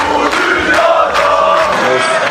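Basketball fans in Manisa chant together while watching the final on a big outdoor screen, a loud, steady crowd roar with rhythmic voices swelling and repeating.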